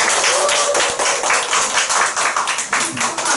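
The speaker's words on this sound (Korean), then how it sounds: "열심히 강의 준비해주시고 열강해주신 한성주 선생님께 다시 한번 큰 박수 부탁드립니다" A lecture audience claps together in a dense, continuous burst of hand claps, fairly loud and close, with no voices standing out.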